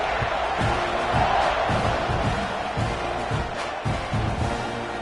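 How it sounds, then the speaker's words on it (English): Stadium crowd in an American football video game, a dense continuous roar of cheering and shouting with rhythmic swells, loud and close throughout. "this crowd is buzzing after that last score"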